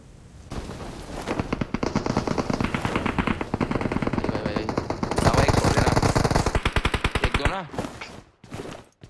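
In the mobile shooter BGMI, loud automatic gunfire rattles almost without a break in long rapid bursts. It thins into a few separate shots and a brief pause near the end.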